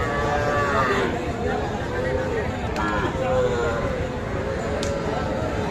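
Crossbred and local bull calves moo repeatedly at a busy cattle market in Dinajpur, their calls rising over steady crowd chatter and background noise.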